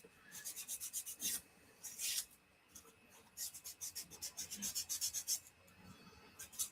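Fine 240-grit sandpaper rubs back and forth over a small part for a 1/350 scale Millennium Falcon model, giving close, quiet rhythmic rasping strokes in quick bursts with short pauses between them.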